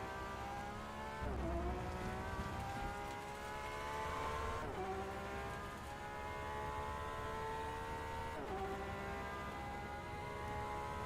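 A Porsche race car engine in the rFactor 2 racing game drones steadily, with its pitch climbing through the gears and three distinct upshifts. The sound is continuous and fairly quiet, with no talking over it.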